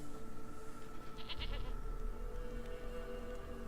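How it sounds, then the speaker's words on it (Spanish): A goat bleats once, briefly and moderately close, over a steady low background hum in a video game scene. "Pues yo tengo una cabra, fíjate tú."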